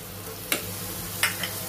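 Turmeric, salt, green chilli and chopped tomato sauté in a pan for a fish curry, giving a steady close sizzle broken by two short scraping stirs.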